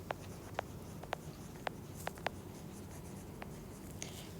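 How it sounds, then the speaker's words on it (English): A pen writing a name on paper: a handful of faint, sparse scratchy strokes and light taps in a quiet room, with no talking. "I'll write it down"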